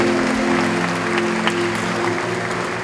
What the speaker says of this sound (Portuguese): Se eu fosse você, eu aplaudia mais forte, fazia mais festa para Jesus